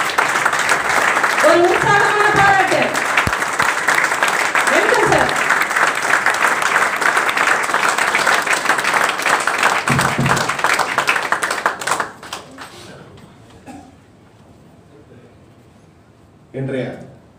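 Sustained, loud audience clapping welcoming speaker Ooty Siva at a Vajramart conference in Madurai, continuous for about twelve seconds before fading, with a brief burst again near the end and a voice heard early on.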